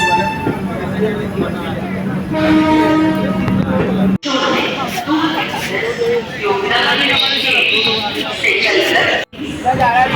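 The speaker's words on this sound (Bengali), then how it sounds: "আমাদের ট্রেন এবারের মতো হরিদ্বারকে বিদায় জানিয়ে রওনা দিল হাওড়ার উদ্দেশ্যে।" Doon Express train departing Haridwar station bound for Howrah, with repeated horn toots and loud rail noise continuing throughout, people chattering and talking nearby on the platform.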